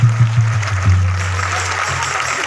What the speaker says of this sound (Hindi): अभिनंदन कर दो, ताली बजाकर।